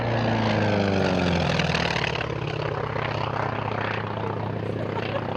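A 1964 T-28B Trojan with a 1,425 horsepower radial engine driving a three-bladed propeller, heard at an air race in Victoria as a loud, steady droning engine whose pitch drops slightly as it passes.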